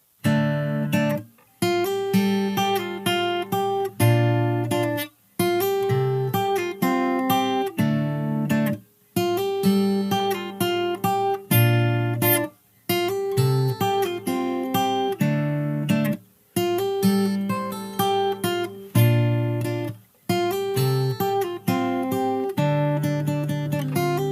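Fingerpicked guitar plays a repeating chord pattern in phrases with brief pauses between them, clear and close, no voices.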